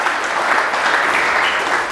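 Steady applause from a church congregation fills the space after a call to clap for Jesus during a sermon, dense and continuous with no voices on top.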